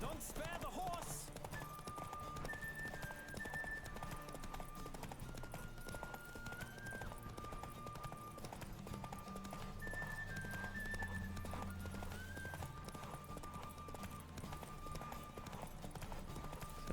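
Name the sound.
horse Roach galloping in video game The Witcher 3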